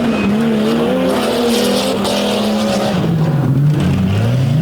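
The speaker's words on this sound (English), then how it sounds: "Leon Hostetter rolls out the chaotic racing entry alongside Zachary Graybeal" Monster truck engines roar continuously at a racing event, loud and close throughout, with a sustained revving drone whose pitch rises and falls as the trucks race with no pause, with no talking over it.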